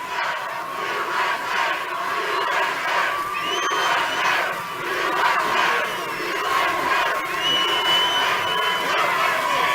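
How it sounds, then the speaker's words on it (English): A huge crowd at an Arizona rally roars and cheers continuously, a dense wash of shouting and whooping voices swelling in waves, loud and unbroken across the whole stretch. "This is quite a crowd."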